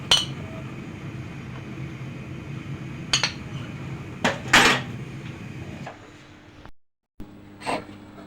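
Boiled tomatoes lifted out of a kitchen pot while making creamy cheese pasta: a utensil scrapes and clinks against metal in a few sharp knocks over a low simmering hiss, then a brief silence and a final clink.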